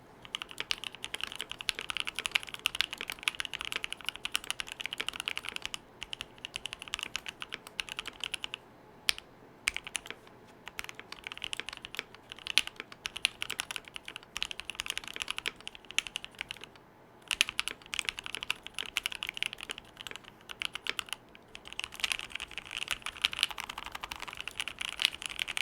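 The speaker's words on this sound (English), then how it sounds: "Let's drop a sound test of the KBDfans67 Lite." Continuous typing on a KBDfans67 Lite custom mechanical keyboard with a mute mount, a close, rapid stream of deep, thocky key presses with brief pauses, and no voices.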